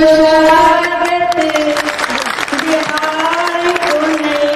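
Loud, sustained applause from a packed hall crowd at a state-level political workshop in Patna's Bapu Sabhagar, welcoming a speaker, with steady clapping under a loudspeaker voice carrying over it throughout.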